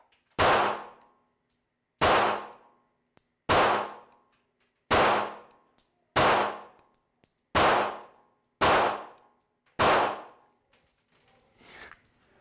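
Ruger LCP MAX double-stack .380 micro compact pistol firing eight sharp, loud shots at a steady pace of about one every one and a half seconds, each with a short ringing decay, outdoors.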